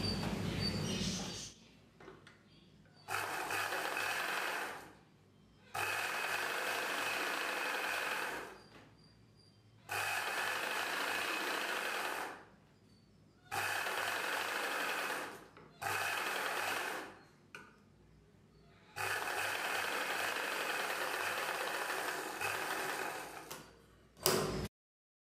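Sewing machine stitching a buckram piece onto a silk saree blouse back neck, running in several steady bursts of rapid stitching separated by short pauses, close and alone.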